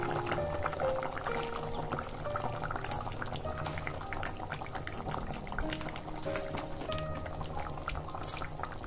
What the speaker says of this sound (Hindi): सो यहाँ पे देखिए बॉयल आ चुका है